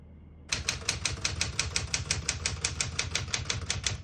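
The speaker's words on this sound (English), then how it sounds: "As you can see, all the keys type nice and none of them skip or stick." Typing on a 1972 Smith-Corona Super Sterling portable typewriter: a fast, even run of sharp mechanical key strikes, about five per second, close and crisp with no voices.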